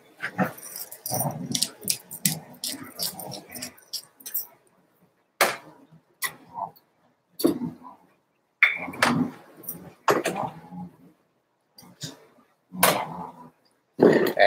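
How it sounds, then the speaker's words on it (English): A pet dog makes bursts of noisy whimpers and barks in a home kitchen, arriving in irregular clusters separated by quiet gaps, with faint jangling and clattering mixed in. "My dog's being noisy."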